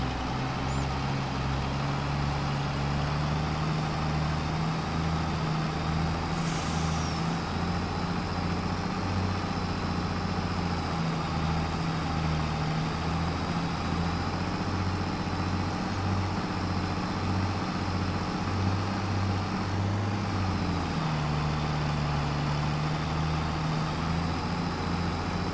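A truck engine idles and rumbles steadily in the video game Farming Simulator 22, a low continuous drone with a faint pulsing throb that shifts slightly in pitch partway through, with no voices.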